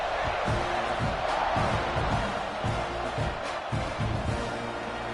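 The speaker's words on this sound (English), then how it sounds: "this crowd now ready to get behind them" A dense, steady roar from a stadium crowd in a college football video game, Ole Miss at Texas A&M, with thumping pulses running through it.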